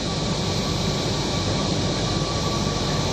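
Steady interior rumble of a Kochi Metro train in motion, a continuous broadband hum with a faint high electrical whine, evenly loud throughout with no voices.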